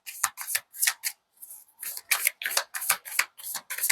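A deck of playing cards riffled and shuffled in quick repeated bursts, close and crisp, about a dozen rapid strokes with one brief pause, no talking.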